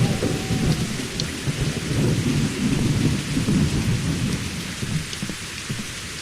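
Steady rain and rolling thunder fill a video game scene in Survival Postapocalypse Now, a dense continuous downpour with low rumbles throughout, close and unbroken by talk.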